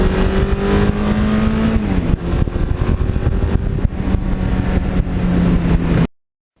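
A 1982 Suzuki GS1100E with an air-cooled engine is heard while riding, a loud, close, steady engine drone with a shifting tone and wind rush, ending suddenly.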